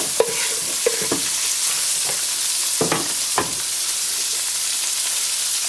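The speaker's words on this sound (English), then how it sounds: "Next, I'm going to add in some carrots and celery." Carrots and celery sautéing in a pan for braised beef short ribs, a steady close sizzle with a few short scrapes and clatters of stirring scattered through, no voices.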